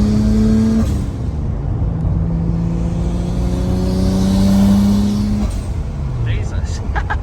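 A Nissan R32 Skyline driving hard down the road, heard from inside as a loud, steady engine drone with rising and falling tones as it shifts through gears.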